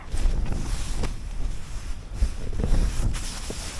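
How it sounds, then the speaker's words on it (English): Strong wind at a wild camp on the Yorkshire moors near the Wainstones before dawn, a steady, loud, low roar buffeting close by, with gusts swelling and easing throughout. "It's actually calmed down now, even though it's still windy as hell."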